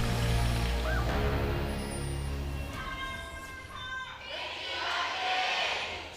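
A big fan crowd at an esports arena during an LCK Summer 2017 League of Legends match cheers and shouts loudly, a swelling roar of many voices with rising and falling intensity, later building again.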